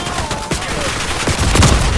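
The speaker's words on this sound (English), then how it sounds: "I heard enemy gunshots coming from the direction that I just turned" Enemy gunfire in Call of Duty, a loud continuous fusillade of rapid gunshots throughout, close and dense with sharp cracks over steady rattle.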